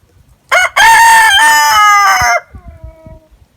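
A rooster crows once on a backyard farm, a loud, close, drawn-out cock-a-doodle-doo lasting about two seconds, followed by quieter bird sounds.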